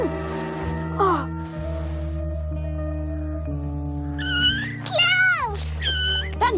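A kitten mewing in a rising, strained cry near the end of a busy scene, over a steady low hum with occasional gasps and voices around it.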